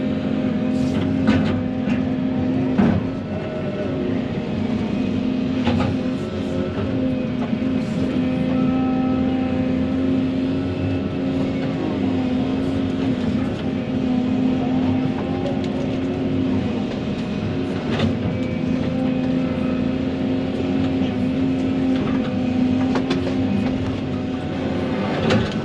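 A loaded farm truck drives off to dump its load, its engine a steady, continuous drone close by with wind noise, running unbroken throughout.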